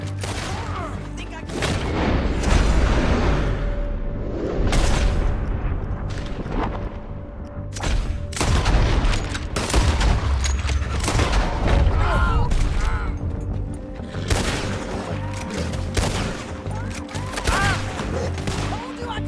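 Gunfire rattles through a shootout in Red Dead Redemption 2, with repeated loud shots and booming blasts in irregular volleys across the whole stretch, and voices heard between them.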